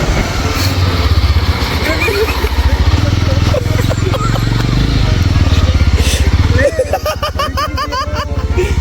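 A faulty motorcycle engine runs close by with a rapid, pulsing putter, while people talk over it and background chatter and movement fill in around it.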